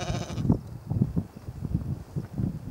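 Three sheep that have strayed over a fence on a walking trail in Ireland's Dingle Way call to one another, with a run of loud, close bleats spaced through the clip amid light wind noise.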